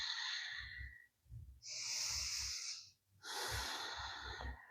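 Three long, loud rounds of dynamic yoga breathing, forceful breaths rushing in and out in a steady rhythm close to the microphone, with short pauses between them during a women's yoga session.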